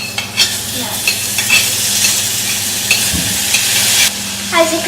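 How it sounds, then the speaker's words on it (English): Butter melts in a very hot pan with a bright, crackling sizzle, punctuated by sharp clicks and scrapes of a utensil, close up and with no talking. "Now we put the butter into this pan and we let it begin to melt."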